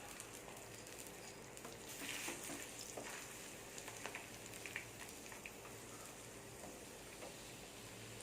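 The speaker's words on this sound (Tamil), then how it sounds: "இதை பொரியல் மாதிரி கிண்டி எடுத்துக்கோங்க" Scrambled egg fried and stirred in a pan, a faint, even crackling sizzle with light scattered taps of the spoon, quiet and steady throughout.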